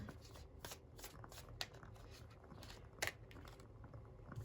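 Tarot cards being shuffled by hand, a steady run of soft riffling and flicking with a couple of sharper snaps, close and fairly quiet.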